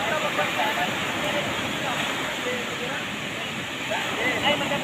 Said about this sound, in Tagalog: Ang laki ng alon doon banda guys